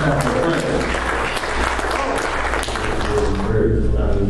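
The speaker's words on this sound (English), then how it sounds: "Give the Lord another hand clap for prayer." A church congregation claps during a prayer service, a loud sustained wash of hand clapping with a voice speaking over part of it.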